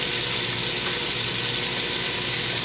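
Diced onions frying in butter and olive oil in a pan, a steady dense sizzle with no pauses, close and fairly loud.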